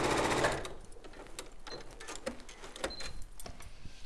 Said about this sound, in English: so I'm going to sew these 2 pieces of fabric together.